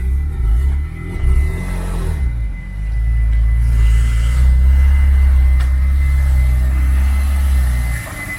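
A BMW engine gives a deep, loud low-frequency rumble, rising briefly and then holding a steady heavy drone with some revving variation before cutting off near the end. No one speaks.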